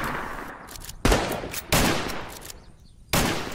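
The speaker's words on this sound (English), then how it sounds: "Come on, keep firing." Gunfire in the video game Unturned during a trench-style battle: sustained heavy firing with several loud sharp shots standing out from a dense, continuous fusillade.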